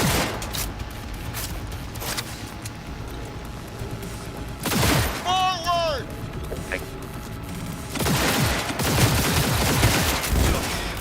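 Bursts of gunfire in the video game Cyberpunk 2077 crackle in loud clusters, with a whistling tonal effect between volleys and an excited voice talking over the action.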